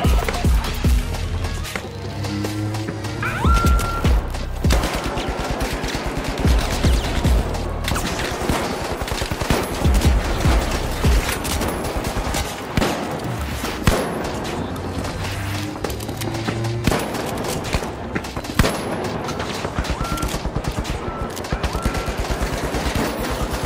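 Sustained, dense automatic turret fire in the video game The Finals, loud and continuous throughout with rapid rattling bursts, and a voice briefly audible under the shooting.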